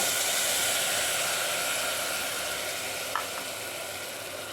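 Green peas hitting hot fat in a pan for paneer peas pulao, a loud, dense, continuous sizzle close by that eases off slightly toward the end, with one faint clink.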